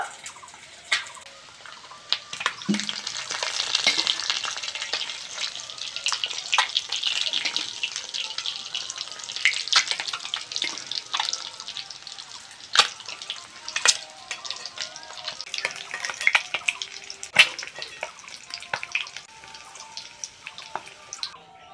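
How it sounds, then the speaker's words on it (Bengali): Eggs fry in hot oil for an egg curry, a crackling, spitting sizzle with scattered sharp pops and drips, fairly close and without any voices. "ডিম ভাজা হয়ে গেছে, তুলে নেব।"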